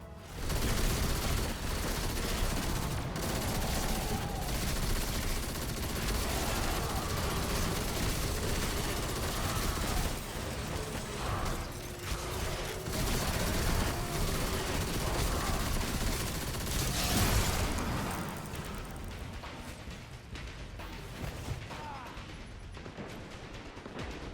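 Xenophage heavy machine gun firing in Destiny 2, slow heavy shots booming over dense game combat noise with explosions and clatter, with a voice talking over much of it.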